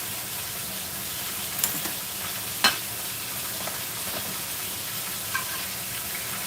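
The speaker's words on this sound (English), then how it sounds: "we are going to throw some butter on top" Butter sizzles in a hot frying pan during a breakfast of ribeye steak and eggs, a steady close crackling hiss with a few small pops and taps, no voices.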